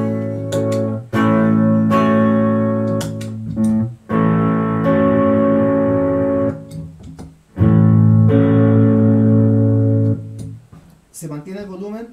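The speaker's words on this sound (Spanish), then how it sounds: "Se mantiene el volumen, pero se logra más distorsión." Electric guitar driven through a distortion effect pedal, sustained saturated chords ringing in several long held bursts with short gaps between them, loud and close, no talking.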